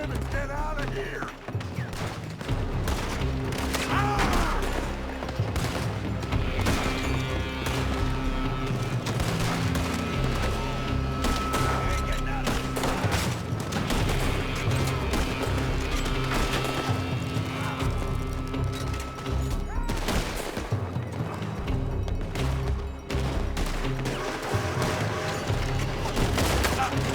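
Gunfire in Red Dead Redemption 2 during a gang shootout, scattered shots and bursts over music, galloping horses and game effects, with voices calling out at times.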